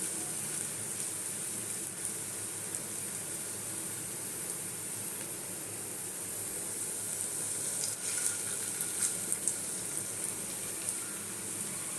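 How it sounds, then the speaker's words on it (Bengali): Potato and flour pakora fry in a small amount of oil in a pan, giving a steady, dense sizzle throughout with a few brief crackles and pops, close and without talk. "একেবারে কম তেলে ভেজে দেবো"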